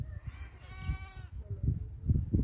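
Goats bleat around a village house, a long wavering call near the middle with shorter bleats around it, set against ongoing low rumbling background noise.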